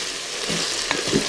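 Sausages with tomato paste fry in a multicooker bowl with a steady close sizzle, while a spoon scrapes and stirs them a couple of times.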